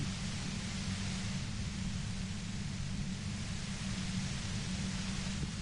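Steady radio static hiss in the video game Disco Elysium, a dense, even wash of white noise running unbroken and fairly quiet throughout with no voices.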